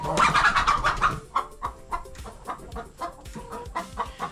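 Several hens cluck and squawk close by, first in a loud burst of overlapping calls, then in scattered short clucks with quiet gaps between them.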